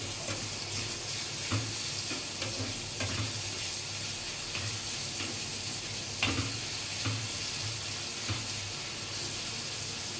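Garlic frying in a pan for molokhia with chicken broth, a steady broadband sizzle with periodic scraping stirs and faint watery clinks, no voices.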